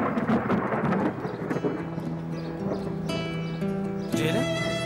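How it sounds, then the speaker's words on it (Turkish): Rolling thunder rumbles through a stormy scene as horses whinny nearby, with rain falling and dramatic music playing over the steady low roar. "Korkma, korkma. Gök gürültüsü sadece."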